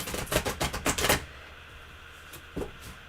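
A deck of tarot cards is shuffled close by in a rapid burst of crisp riffling clicks for about a second, then stops, leaving quiet with a couple of soft card taps afterward.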